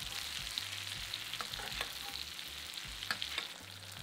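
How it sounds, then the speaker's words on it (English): Steaks fry in a pan with butter, garlic and thyme, giving a steady close sizzle with soft spoon-scraping clicks as they are basted, alone without speech. "We want to turn the heat off and then baste the steaks with the butter and the juices in the pan."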